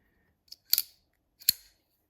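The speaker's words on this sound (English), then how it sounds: "shark lock, which is activated by pulling this lever right here. And it has that distinctive Demko sound" A Demko folding knife's shark lock, worked by a lever, gives a faint tick, then two crisp, close metallic clicks less than a second apart in an otherwise quiet room.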